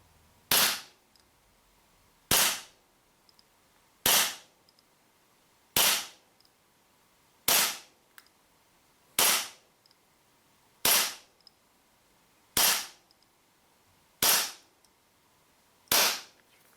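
A WE Glock 19 Gen 5 gas airsoft pistol firing over a chronograph, ten sharp evenly spaced shots about two seconds apart, loud and close with quiet between, no talking.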